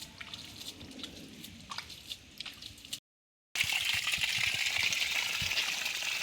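Spring water is channelled into a village garden and trickles and drips quietly, with a brief gap before a steadier, brighter gush of flowing water.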